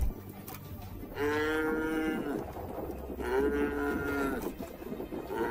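A buffalo under attack by lions gives two long, loud, strained bellows about two seconds apart over a noisy outdoor background, with no speech.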